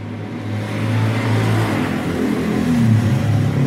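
A Honda Grand motorcycle engine hums and climbs steadily at its top speed of around 60, a sustained close drone with rising pitch and no talk.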